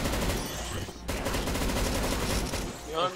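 Rapid gunfire from the CS:GO zombies mode comes in dense, loud bursts, a steady volley with a short break near the one-second mark and no voices over it.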